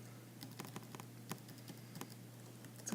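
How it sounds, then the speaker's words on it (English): Keys clacking on a computer keyboard as an office employee enters a vendor fee payment, quiet, irregular taps in short bursts over a steady low electrical hum, with no talking. "we go in and type our fee, how much was paid"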